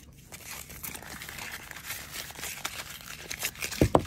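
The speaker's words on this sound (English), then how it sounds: "A little bit more tape crumpled up." Metal craft tape being crumpled by hand, a steady dry crinkling and crackling that builds toward a few sharper crunches near the end, close up with no talking.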